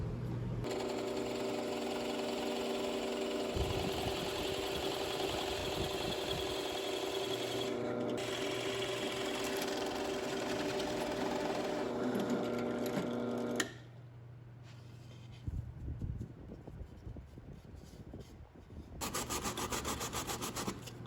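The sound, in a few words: drilling wood with a Forstner bit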